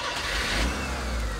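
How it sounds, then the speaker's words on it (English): An old motor car engine turns over, catches and revs with a mid-pitched rising drone, close and fairly loud, with no talking over it. "I can start the engine and drive away."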